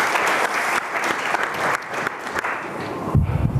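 Steady audience applause fills the room at a forum event for arts and entertainment program alumni, loud and sustained throughout, with no voices over it.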